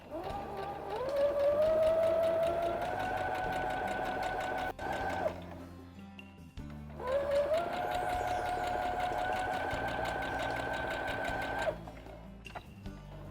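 A sewing machine stitches a small girl's bag, running steadily in two long bursts with a brief pause between, loud and close with no voices.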